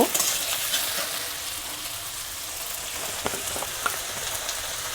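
Peas and tomato frying in a pan with cabbage over a lowered gas flame, a quiet steady sizzle with a few soft stirring clicks, close and free of talk.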